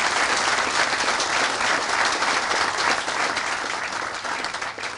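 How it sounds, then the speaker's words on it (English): An audience at an outdoor groundbreaking ceremony for a public safety center claps steadily, a dense wash of applause that holds for several seconds and then slowly thins out. "Let's give him a round of applause"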